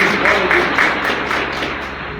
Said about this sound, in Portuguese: Então aplaude o Senhor Jesus por isso.